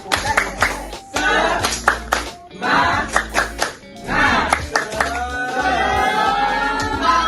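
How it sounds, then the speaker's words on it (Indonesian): A classroom of students does a rhythmic 'tepuk semangat' clapping chant, loud patterned bursts of claps in short groups with pauses, voices chanting along. "Coba sebelumnya kita tepuk semangat dulu. Tepuk semangat."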